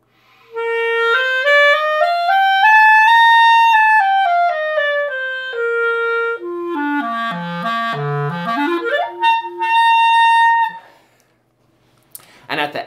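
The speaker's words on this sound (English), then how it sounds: "you get that sort of nasally, sort of kazooey sound like this" A nasal, kazoo-like reed instrument tone from a poor embouchure, gliding up and down in pitch through a sequence of held and stepped notes before breaking off near the end.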